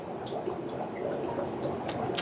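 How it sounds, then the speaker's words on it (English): Orange juice pours into water bubbling with dry ice, giving a soft, steady liquid splashing and fizzing hiss at low level, with faint drips near the end. "We're gonna take some orange juice. I'm gonna pour a little in."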